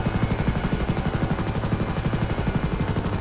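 Helicopter in GTA V Online, a close, loud rhythmic rotor chop pulsing steadily throughout with a constant turbine whine, no voices.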